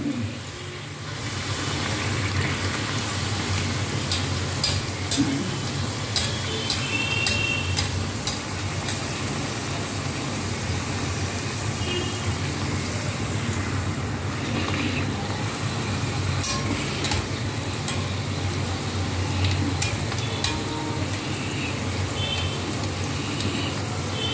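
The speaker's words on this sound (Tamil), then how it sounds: "மாமி பூரி பொரிக்கிறேன்." Poori fries in hot oil, sizzling steadily and loudly throughout, with a low hum underneath and occasional light clinks of a utensil; no one speaks.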